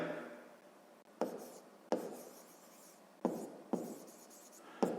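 Pen strokes while handwriting a sixth-grade math solution, a soft close scratching with several sharp taps as the pen lifts and lands, no talking.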